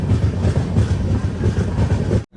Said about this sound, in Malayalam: കൊല്ലം ജംഗ്ഷൻ റെയിൽവേ സ്റ്റേഷനിലേക്ക് ഇതാ നമ്മുടെ ട്രെയിൻ എത്തിക്കൊണ്ടിരിക്കുകയാണ്.